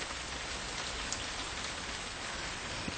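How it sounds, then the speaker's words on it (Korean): Steady rain falls throughout as a radio drama sound effect, a dense, even patter of drops on a surface with no voices, continuous and fairly close. "선명한 빗소리가 못내 귓속으로 흘러들었고 곁에는 순임이 누워 있었다."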